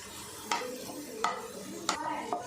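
Soft stirring and scraping as garlic sautés in a pan over a low flame and low sizzle, with a few sharp utensil taps against the metal spaced through the moment.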